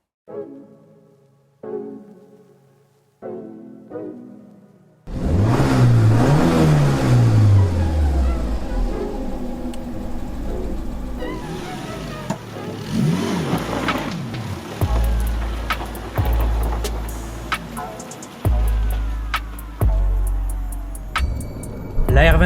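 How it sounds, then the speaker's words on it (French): A Renault 21 2-litre turbo starts up after a short stretch of talk and then drives along the road, its engine droning and rising with each acceleration and gear change, loud and steady inside the car. "je vous propose d'aller faire un petit tour avec cette Renault 21 2 litres turbo"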